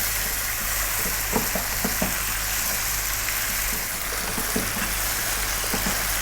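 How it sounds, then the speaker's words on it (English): Onions frying on high heat in a pan for a mutton and potato curry, a loud steady sizzle with soft intermittent scrapes of stirring, close up. "Let's get those onions cooked down a little bit."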